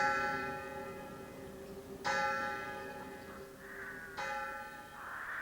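Church bells ringing for a Sunday service: two ringing strikes a couple of seconds apart, each followed by a long, resonant decay, moderately faint and alone.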